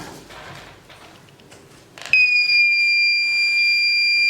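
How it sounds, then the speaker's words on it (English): A loud, steady electronic alarm tone from an IoT alarm system demo switches on abruptly after a few soft clicks and room noise, then holds as a piercing continuous beep. "So you can see alarm is on."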